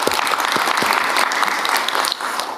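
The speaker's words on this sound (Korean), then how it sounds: "박수로 담아주시죠" Applause from attendees at a meeting between the president and foreign investors, loud and dense, the clapping carrying on evenly for a couple of seconds before easing slightly at the end.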